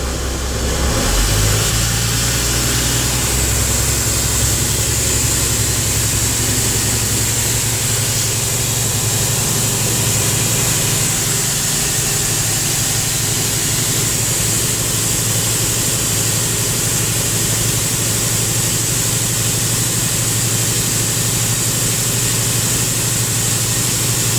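A truck engine revs up toward 1500 RPM during a CDL air brake test, giving a loud, steady, continuous drone on its own with no talk.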